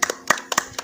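A few quick hand claps from a small group during an Indonesian podcast, a short close burst of sharp claps lasting under a second.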